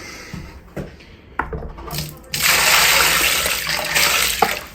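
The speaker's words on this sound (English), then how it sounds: "we're going to add some fresh water to it. And we're going to spin that round and knock that right back." Old plaster being spun round with added fresh water in a bucket for ceiling plastering, a wet swishing, sloshing churn that starts after a few light knocks and continues steadily and fairly close.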